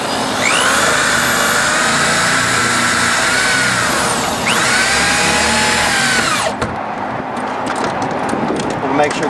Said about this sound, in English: Washer goes on the outside, self-tapping screw in just like that